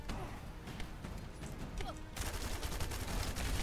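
Gley firing her gun in the video game The First Descendant: dense, continuous volleys of shots over busy combat noise, growing louder and heavier midway.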